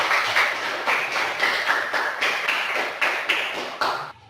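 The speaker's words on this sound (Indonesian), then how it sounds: "Berikan tepuk tangan untuk Natas yang sudah memberikan pembacaan puisi." Small audience clapping after a poetry reading, a steady patter of hand claps for about four seconds that cuts off sharply at the end.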